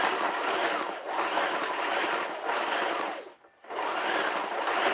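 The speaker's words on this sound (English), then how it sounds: "I'm sewing back and forth like 2 times so it don't come apart" Sewing machine stitching a small fabric tube pad back and forth, a steady loud rapid whir that runs on with one brief pause before starting again.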